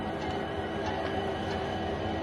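A passenger train at a small rural stop with no platform, a steady low metallic rumble and rolling hum close by, continuous and moderately loud with no voices.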